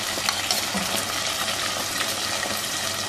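Chicken mince sizzles in a pan while garlic ginger paste and tomato go in, a dense, even frying hiss that stays loud and close the whole time with no voices.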